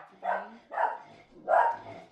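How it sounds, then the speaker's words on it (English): A dog barks three times close by, short, sharp woofs spaced about half a second apart, with the last bark slightly louder, in a quiet room. "that's the dog barking."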